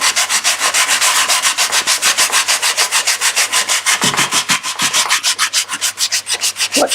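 Wood is hand-sanded with 180-grit sandpaper in close, loud, rhythmic back-and-forth strokes, a fast steady rasping that keeps going without pause.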